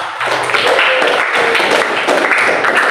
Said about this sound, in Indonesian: Tepuk tangan buat Mbak Indira.